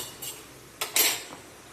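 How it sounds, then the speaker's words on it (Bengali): Metal lid set onto a cooking pot of crab curry, a few faint clinks followed by a brighter clattering scrape and settle, close and quiet with no talk. "দেখো ঢাকা দিয়ে দিলাম"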